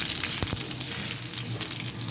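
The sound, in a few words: mustard seeds and green chillies frying in oil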